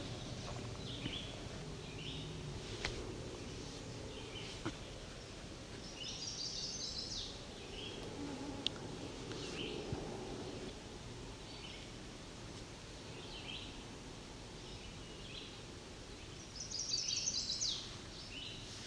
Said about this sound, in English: That's a chestnut-sided warbler.